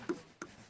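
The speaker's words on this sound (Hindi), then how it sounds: "तो हम यहाँ लिखेंगे" Pen or chalk writing numbers by hand, two short, soft scratching strokes a fraction of a second apart, close and quiet with no talk.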